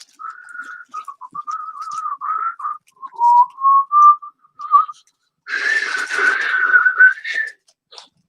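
A person whistles a simple melodic tune alone, in clear sustained and stepping notes with short pauses, ending in a louder, breathier whistled phrase.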